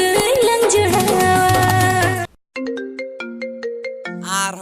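A mobile phone ringtone plays loudly and close, a dense musical tune that cuts out abruptly, then resumes as a sparser melodic pattern of repeated tones, alone without talk.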